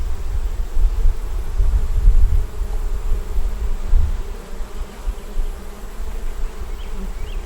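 Honey bees buzz continuously at an open beehive, a dense steady drone close by with swelling low-pitched rumbles, no voices present.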